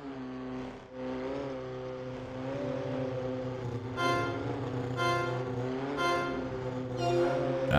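Rough, strained engines of damaged race cars in a Ford Street Racing video game drone steadily with harmonic whine, rising in pitch and revving in several surges near the end.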